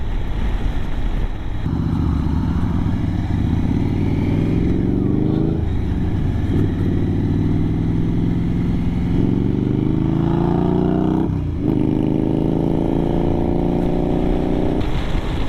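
An Indian Scout motorcycle engine rumbles continuously while riding down the road, a loud close drone that rises and falls through throttle changes and gear shifts, with wind noise.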